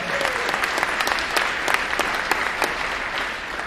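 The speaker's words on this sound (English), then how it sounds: "Give him a round of applause." An audience at a standup comedy competition applauding steadily, many hands clapping together in a dense, continuous wash of sound at moderate volume.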